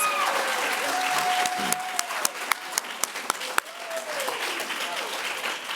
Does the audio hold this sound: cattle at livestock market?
no